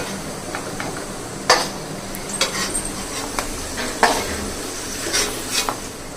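Semolina roasting in ghee in a pan, stirred constantly: a soft sizzle underneath sharp scrapes and clinks of the spoon against the pan, recurring every second or so, up close.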